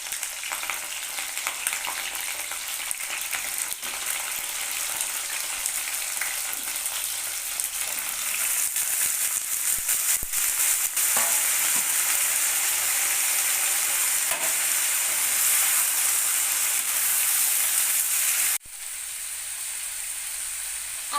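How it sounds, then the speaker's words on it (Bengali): Cauliflower and potato pieces sizzle in hot oil with panch phoron and green chili, a continuous loud frying hiss with occasional stirring scrapes, then a sudden drop to a softer sizzle near the end. "ফুলকপি এবং আলু দুটোই একসঙ্গে দিয়ে দিতে হবে"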